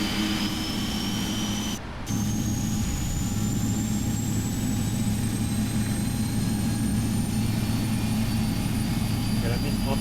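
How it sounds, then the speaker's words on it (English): Jet engine number 1 of a Japan Airlines Boeing 777-300ER spooling up at the gate in Flight Simulator X, a steady turbine roar with a slowly rising high whine, continuous and loud throughout. "let's start engine number 1"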